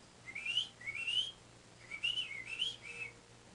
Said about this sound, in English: Birds overhead began to sing, whistle a note and two.